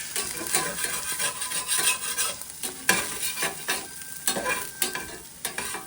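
Food sizzles in a lightly oiled cast iron pan, a constant hissing fry broken by repeated scraping and stirring strokes of a utensil against the metal, close and fairly steady with no talk.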